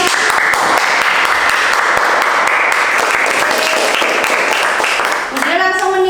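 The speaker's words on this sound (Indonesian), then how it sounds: "Beri tepuk tangan dulu untuk Mas." Loud, dense applause from a classroom of students in an Indonesian art lesson, continuous clapping throughout, and a voice briefly begins speaking as it winds down.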